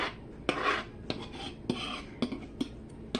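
A utensil scrapes leftover ricotta cheese off a dish in a kitchen, making a series of short, close scraping strokes at an irregular rhythm with brief pauses between them, quiet overall and with no talking.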